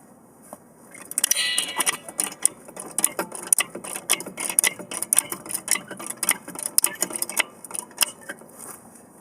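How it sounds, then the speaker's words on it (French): A ratchet wrench backs out a screw on the suspension wishbone of a VW Touran, clicking in rapid close bursts with brief pauses and uneven rhythm. "On surélève ceci pour enlever la vis qui est au fond là."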